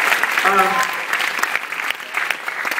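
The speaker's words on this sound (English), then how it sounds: "give them another big round of applause" A hypnotist show audience claps for volunteers, a short burst of applause with a voice speaking briefly over its start, the clapping continuing unevenly for a few seconds.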